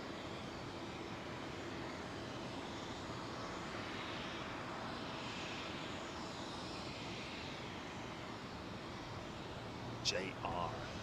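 A British Airways Airbus A380 departs over Heathrow as a steady, distant jet roar that holds evenly throughout. A brief faint click comes near the end.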